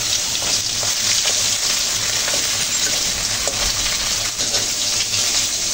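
Pieces of carp sizzle steadily in hot oil in a pan as they are turned over, a dense, continuous frying hiss with faint stirring and scraping over the top and no voices.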